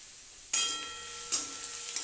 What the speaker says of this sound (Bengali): সরষের তেল গরম হয়ে গেছে, ফোড়নে দিয়ে দেবো তেজপাতা, তারপর দিয়ে দেবো রসুন কুচি।